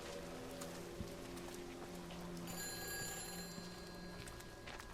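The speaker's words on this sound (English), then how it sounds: "Could hear a phone ringing inside here." A telephone bell rings inside a house in a video game, a thin, repeated ringing tone that sits fairly faintly over a steady rain-like hiss of ambience.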